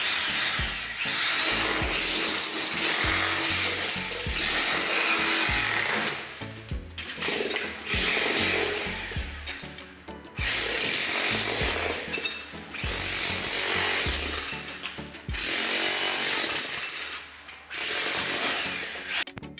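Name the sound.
Foster hammer drill machine breaking surface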